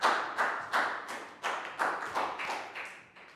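A primary classroom gives a round of applause, a quick train of about ten distinct hand claps in a steady rhythm, fairly close and moderately loud, with no talking over it.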